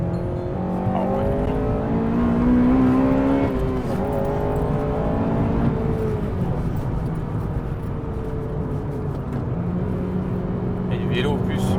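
A white Honda Civic Type R FN2 Championship edition drives in the rain, its engine droning and rising through revs with tonal whine and tyre hiss, heard from inside beneath loud conversation.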